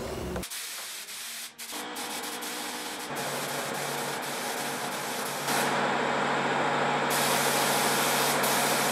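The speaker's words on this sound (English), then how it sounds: "put it in my spray gun, and get spraying." A spray gun hisses steadily as it applies Minwax polyurethane finish to a queen size platform bed, broad continuous spray noise in several long bursts that grow louder toward the end, with brief pauses between passes.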